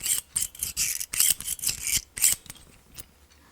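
Hand push drill boring small holes in a model cross beam for a scale scene build, a rapid series of scratchy, rasping bursts close to the mic, fading toward the end.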